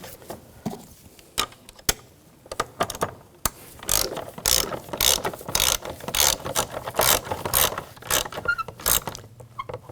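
A ratchet tightens a bolt on the brake master cylinder of a 2011-2018 Volkswagen Jetta, making close, crisp clicking bursts that start sparse and turn into rapid repeated strokes, with light mechanical knocks.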